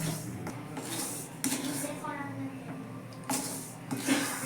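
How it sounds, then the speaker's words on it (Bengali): A utensil scrapes and stirs dry semolina in a pan in short bursts, with soft rasping between strokes and a low background hum. "এইভাবে সুজিটা 5 মিনিটের মতো ভেজে নিতে হবে।"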